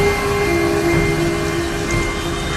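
Steady storm rain hisses loud and continuous throughout, a broad wash of falling water with a low rumbling undertone, no voices.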